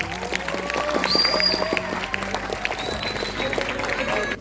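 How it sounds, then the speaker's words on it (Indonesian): A crowd claps steadily for several seconds, dense and fairly loud, with some voices and musical tones mixed underneath. "Tepuk tangan dulu."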